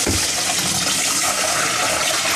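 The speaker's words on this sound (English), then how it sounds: "you fill in water." Water gushing from a tap into a pot of rinsed sticky rice, a loud continuous rushing fill lasting the whole moment with no voices.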